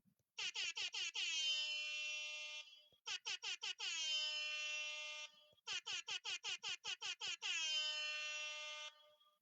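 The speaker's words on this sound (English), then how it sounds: "I'm gonna write the board out in air horns" An air horn blasts in three bursts, each a rapid run of short staccato honks ending in a long sustained blare, loud and alone.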